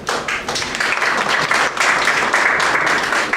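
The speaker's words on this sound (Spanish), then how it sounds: "damos un saludo y bienvenida con un fuerte aplauso" Strong applause from an audience at a law lecture welcomes the invited speaker, brisk dense clapping that stays loud and even for a few seconds.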